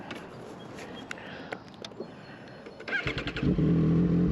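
A motorcycle engine idles with a steady hum, then revs up loudly with the exhaust pulsing and roaring close by, filling the last second and a half.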